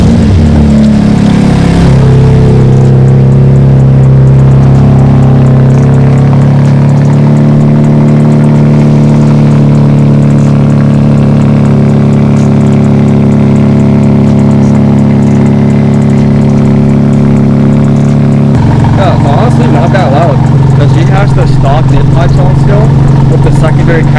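A tuned BMW car engine holds a loud, steady idle drone close by, with a brief rough burst at the start and a shift to a harsher, busier tone near the end.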